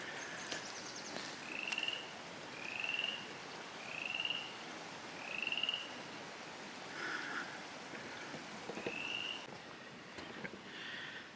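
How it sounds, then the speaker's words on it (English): Frogs croak along a creek trail in a series of repeated calls at fairly even intervals, clear against a quiet outdoor background, with a few fainter calls later on. "Can you hear the frogs?"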